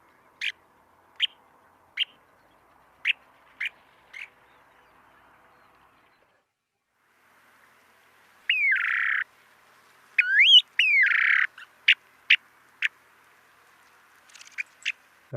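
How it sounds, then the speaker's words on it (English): Snowy plover calls from a field recording: a series of short, sharp, evenly spaced chirps, then longer rising whistled notes and more quick chirps, fairly clear against a quiet background. "the snowy plover, which is probably the cutest bird in creation"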